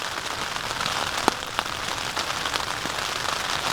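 Rain pattering steadily on a surface at a cycling campsite, a constant close hiss with a few sharper drop taps standing out.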